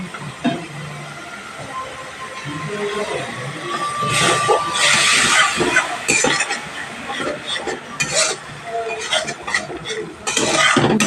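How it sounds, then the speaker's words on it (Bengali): Water hits hot frying spice masala for a Bengali-style pabda fish curry, setting off a loud, broad hiss and sizzle that swells in the middle and keeps bubbling alongside scraping stirring noises. "এখানে একটু জল দিয়ে দেবো দিয়ে মশলাটা ভালোভাবে কষিয়ে নেব"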